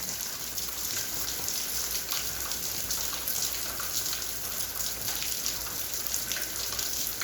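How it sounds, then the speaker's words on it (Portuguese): Rain falls steadily while riding a bicycle, a constant close hiss of drops with no clear pauses. "Tá parando a chuva já."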